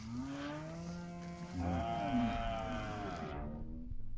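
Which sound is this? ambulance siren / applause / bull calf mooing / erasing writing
bull calf mooing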